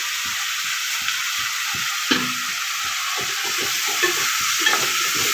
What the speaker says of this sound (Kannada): ನೋಡಿ ಈ ಥರ ಚೆನ್ನಾಗಿ ರೋಸ್ಟ್ ಮಾಡ್ಕೋಬೇಕು ಎಣ್ಣೆಯಲ್ಲೇ ರೋಸ್ಟ್ ಆಗುತ್ತೆ